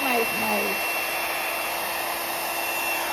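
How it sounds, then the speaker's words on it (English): A blow dryer roars steadily and loudly while blowing out paint in a pour-painting technique, a constant whirring airflow with a brief voice-like tonal sweep near the start. "the higher I bring up my blow dryer, the bigger the blowout"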